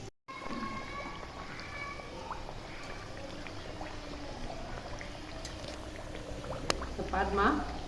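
Badusha sweets fry slowly in hot oil, giving a quiet steady sizzle and bubbling throughout, with someone speaking over it.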